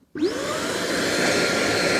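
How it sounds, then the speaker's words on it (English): A Beldray SpotBuster carpet cleaner vacuuming up water whines up to speed, then roars steadily and loudly, close by, with a rising pitch at start-up. "now we're going to use this to hoover up the water"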